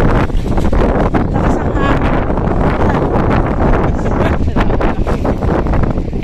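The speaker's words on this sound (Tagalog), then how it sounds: "Mahangin ngayon." Strong wind blasts outdoors, roaring steadily and loudly across the microphone in a constant buffeting rush without a break.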